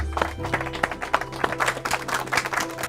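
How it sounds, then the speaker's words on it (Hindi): A small group claps in quick, uneven hand claps at moderate volume, with a faint hum underneath. "ताली बजाइए।"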